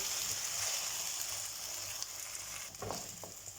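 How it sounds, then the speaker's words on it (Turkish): Carrots and potatoes fry in oil in a pan, making a continuous close hiss and crackle with a brief louder spatter near the end; no one speaks. "Tavama yarım bir su, bir su bardağı sıvı yağ aldım ve sebzelerimi içerisine alıyorum."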